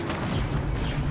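A grenade goes off in a Star Wars Battlefront II battle on Hoth, a dull booming blast rolling under continuous heavy battle noise for about a second, close and loud.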